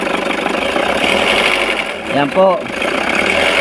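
A rough-running engine with a fault idles steadily and fairly loud, its uneven mechanical chatter continuing throughout while someone speaks briefly over it.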